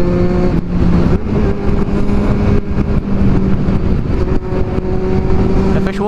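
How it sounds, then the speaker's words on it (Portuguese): A white Kawasaki Z750 motorcycle engine runs loud and close, its steady drone repeatedly breaking off in brief dropouts as it sputters and misfires, with no voices. "A moto já tá falhando"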